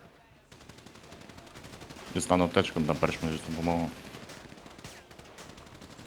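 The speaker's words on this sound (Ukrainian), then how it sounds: "А по кому ви стріляєте, я не бачу нікого." Rapid gunfire in a GTA roleplay game crackles steadily as a fast, dense stream of sharp shots throughout, partly under someone speaking in the middle.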